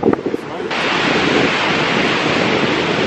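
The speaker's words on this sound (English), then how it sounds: "Final stop here, the beach." Waves wash steadily onto a soft sand beach with clear water, a broad, loud roar of surf that swells in after a brief quieter moment and then rushes on continuously.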